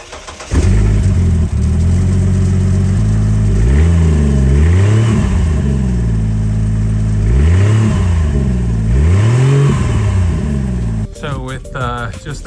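An SUV engine with the exhaust cut off starts and revs loudly nearby, rising and falling in several rough, throaty revs over a steady idle, with brief talk at the end.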